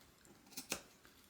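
Scissors make two quick, quiet snips close up while trimming fabric between an overlay layer during handbag sewing.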